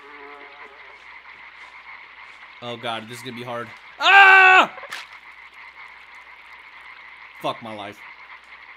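Frogs croak with a rhythmic, throaty chorus in the dark side-scrolling game Limbo, steady in the background while a player exclaims and swears over it.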